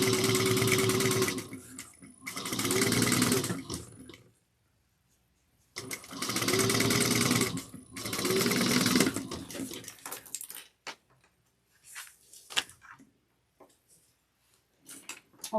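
A sewing machine stitches the seam of a tote bag in two long loud bursts of steady whirring, separated by short pauses, followed by faint scattered handling clicks and rustles.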